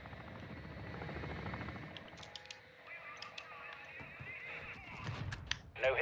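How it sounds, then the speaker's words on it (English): A bomb drone flies in the game DMZ, giving a steady whirring buzz that runs through most of the few seconds, with game effects and distant noises on top of it. "Deploying bomb drone!"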